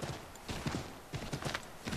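Horse hooves clip-clop in the video game Assassin's Creed 3, a run of near, moderately loud thuds in uneven clusters as the horse moves over dirt and snow.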